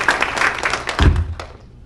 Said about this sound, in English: I think that these distinguished alumni deserve a round of applause